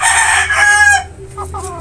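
A loud rooster crow, close by, ending in a drawn-out falling note.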